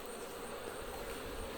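Honey bees hum in a dense, steady drone around an apiary hive, faint and continuous with no voices.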